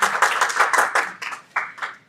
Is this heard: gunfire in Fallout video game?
no